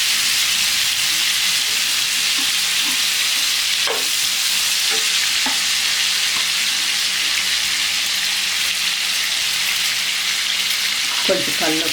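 Fresh prawns fry in a hot pan with a steady, loud, close sizzle throughout, broken by a few soft stirring knocks and a brief scrape near the end.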